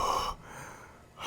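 Voice imitating the killer's heavy breathing from the 1983 film Pieces, one loud close breathy gasp followed by a quieter drawn-out exhale and another intake at the end.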